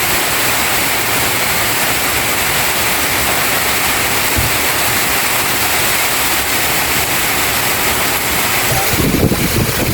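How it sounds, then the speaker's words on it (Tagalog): Heavy rain pours down with strong wind on a farm, a loud, unbroken roaring wash of noise with occasional gusts buffeting the microphone. "malakas ang ulan, ang hangin"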